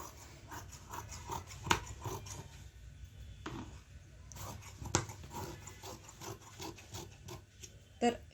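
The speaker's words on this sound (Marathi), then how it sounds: "कट करताना एक्स्ट्राचं कापड थोडंसं कट करून घ्यायचं आहे" Scissors cut through embroidered blouse fabric, a series of soft rasping snips and rustles, close and fairly quiet, with a few sharper clicks of the blades.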